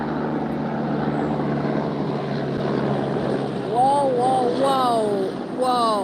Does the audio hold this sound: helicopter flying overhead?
yes